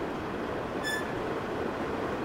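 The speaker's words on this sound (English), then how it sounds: "Here goes another train." A train passes near a farm, a steady broadband rumble of rolling wagons filling the short stretch, with a brief high squeal near the start.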